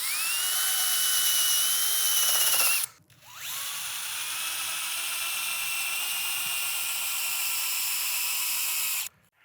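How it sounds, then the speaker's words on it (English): Power drill boring an angled pilot hole into soil for a TEROS 22 water potential sensor, a high steady whine running for about three seconds, briefly stopping, then whirring again for six more seconds, close and alone. "We'll start drilling the pilot hole."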